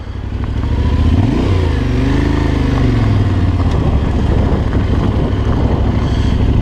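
A Yamaha Tenere 700 motorcycle ridden off-road on loose ground, its engine loud and close with a steady drone that rises and falls as the rider works the throttle, amid wind rumble and no talk.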